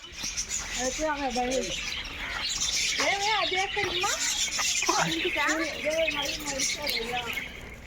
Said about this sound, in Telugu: ఆల్బినో చిరుచిలుకలు అంట ఇవి కూడా కలర్కి ఒకటి రంగురంగులు ఉన్నాయి వైట్ ఐడ్ కనూర్